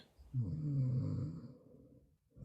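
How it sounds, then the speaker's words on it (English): A person snoring during a group call, one long rumbling snore of low, harsh breath filling most of the moment, followed by a pause and the start of another inhale. "Who is snoring?"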